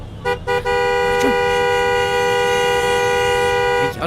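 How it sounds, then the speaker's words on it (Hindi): A car horn blares in one long sustained honk after a couple of short toots, loud and close, during a tense roadside confrontation with police, with a voice briefly heard. "अर्जुन तू हॉर्न बजा रहा है"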